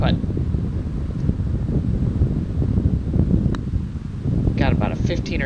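Wind gusting across an open golf course buffets the microphone in a continuous low rumble that swells and eases, with a faint higher rustle near the end.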